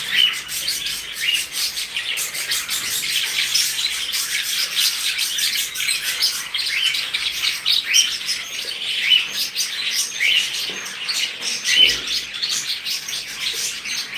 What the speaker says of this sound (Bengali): দেখেন পাখি কী সুন্দর খাবার খেতেছে কী সুন্দর উড়াউড়ি করতেছে